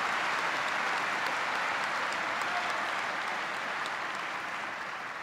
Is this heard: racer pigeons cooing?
no